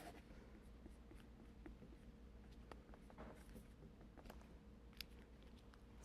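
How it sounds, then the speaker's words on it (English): A pen scratches and taps faintly on a dry erase board made of duct tape, with irregular small strokes over a quiet room hum. "And now I can write a little message on here."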